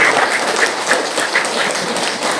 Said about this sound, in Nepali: यहाँ सबैलाई जोरदार ताली बजाइदिनु भन्नु म हात।